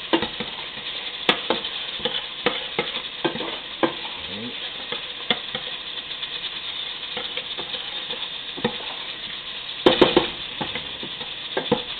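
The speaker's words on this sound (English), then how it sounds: "now we got our vegetables in there sauteing" Vegetables sautéing in a pot for curry turkey, a busy crackling sizzle with frequent sharp spoon knocks and scrapes against the pot as they are stirred, close and steady with no talk.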